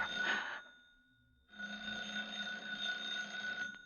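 An old-fashioned telephone rings in a radio drama: a short ring, a brief pause, then a longer sustained ring, loud and close, with no talk over it.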